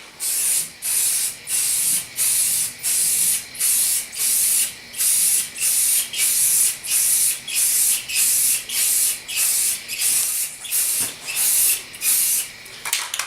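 A spray gun coats a fiberglass ported subwoofer box in short repeated bursts of loud hissing spray, about twenty trigger pulls in quick even rhythm with brief gaps between them.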